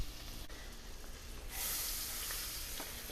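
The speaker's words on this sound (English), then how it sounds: "I am going to go ahead and add a couple of tablespoons of butter" Butter hits a hot pan with chicken sauce and bursts into loud, close sizzling that swells halfway through and holds as a steady hiss; no voices.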